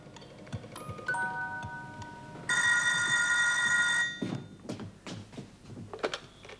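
A telephone bell rings loudly in one sustained burst, preceded by faint tones and followed by rustling and light movement noises.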